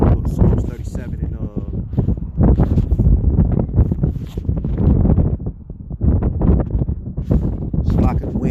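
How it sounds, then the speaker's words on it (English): Wind blows at a lake, a loud broadband rush buffeting the microphone while someone talks over it almost continuously. "it's like the wind blowing because I'm at the lake."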